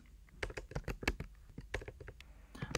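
Crisp, close computer keyboard keystrokes as HTML is typed, irregular taps and clusters of clicks at a moderate pace, with no talking.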